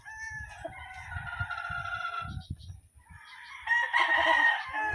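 Gamefarm chickens in a pen crow and cluck, with a rooster's crow cutting through twice against nearby clucking and low rustling, close and fairly loud.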